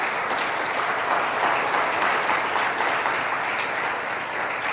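An audience at a church talk breaks into loud, sustained applause, a dense steady wash of clapping from many hands that holds at full strength for several seconds.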